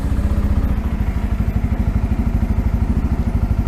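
A 2025 Bajaj Pulsar N250 motorcycle engine idles steadily up close, a loud, even low-pitched chugging pulse with a faint clatter running throughout.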